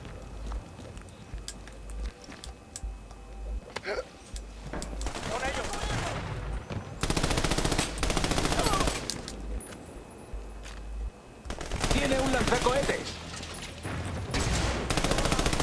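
Gunfire in the video game Army of Two, with repeated loud bursts of automatic fire separated by brief pauses over steady background action, with voices talking at times.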